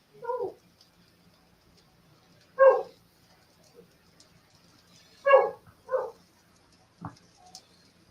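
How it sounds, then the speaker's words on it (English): A dog barks in short bursts, about six separate woofs spread over several seconds with quiet gaps between them, moderately close. "you can probably hear my dog in there barking."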